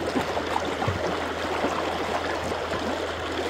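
A river current flows in a steady, close rushing wash with soft gurgles, continuous and fairly loud throughout, with no voices.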